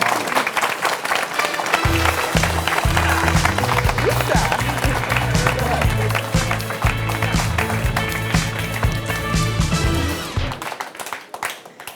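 Audience applause at a French evening event honouring a performing collective, steady dense clapping with some rhythmic music or beat underneath, loud and sustained before fading out near the end.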